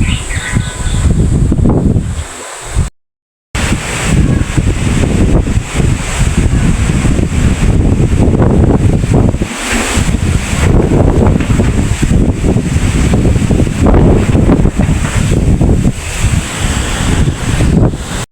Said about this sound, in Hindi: इतनी मज़े की हवा चलने लग गई थी